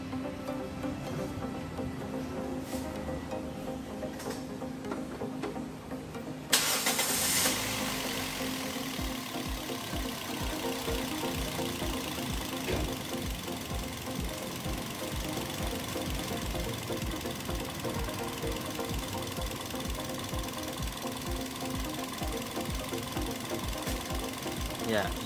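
Toyota Yaris engine cranks and starts, then settles into a steady idle with a rhythmic ticking pulse, close and continuous for the rest of the stretch.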